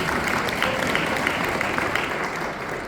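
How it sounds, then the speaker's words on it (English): Dinner audience applauding at a BRICS event with Aspen, a steady wash of clapping from a crowd that lasts the full few seconds at even loudness, with faint voices mixed in. "so you can give a round of applause"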